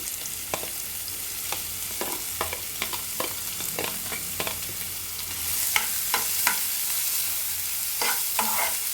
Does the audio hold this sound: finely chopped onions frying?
yes